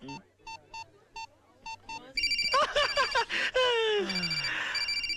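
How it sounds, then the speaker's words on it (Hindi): A mobile phone rings: short repeated electronic beeps, then a louder melodic ringtone with bright chiming tones and swooping notes, close and clear. "मर गया मेरी बीवी का फोन।"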